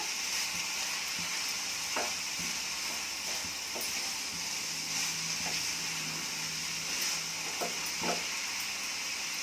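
Saagu masala stirred as it fries in a pan, a steady close sizzle with scattered scraping clicks from the spoon, no voices.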